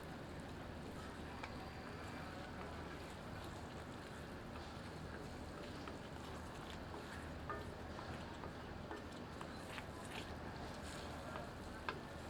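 Goat meat and yogurt frying over high heat in a kadhai for dhaba-style karahi gosht give a steady, dense sizzle that holds at an even level throughout, with faint scraping and stirring ticks over it and no talk.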